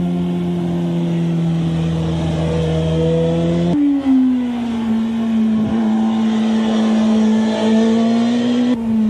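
Motorcycle engine held at a steady drone, then a clear step in pitch as the rider flicks the bike over into a turn. The engine note is loud and close, with no voices.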